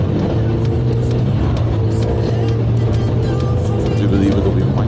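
A Heavy Metals circuit race car engine droning steadily at a constant loud level, with a low rumbling tone throughout and a commentator talking over it.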